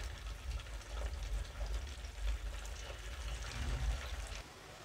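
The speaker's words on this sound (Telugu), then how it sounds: "ఈ ముక్క మునిగేంత నూనెలో ఈ చికెన్ వేయాలి" Marinated chicken pakodi pieces frying in deep hot oil over a low-to-medium flame give a soft, continuous bubbling sizzle. A low rumble runs underneath, and there is no talk.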